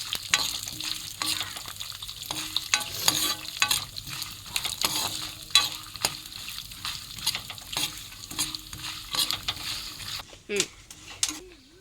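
Spices for tempering crackle and sizzle in hot oil in a pan, a steady dense frying hiss broken by sharp pops and occasional scrapes of a stirring spoon, close and fairly loud throughout.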